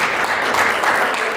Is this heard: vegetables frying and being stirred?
no